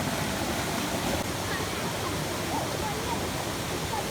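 Two young children, Sanu and Atharva, splash and play in a flowing stream in a Konkan village, a steady loud rush of running water filling the scene throughout with no clear voices above it.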